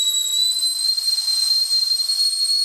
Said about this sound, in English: We got the kettle. The kettle's ready to go.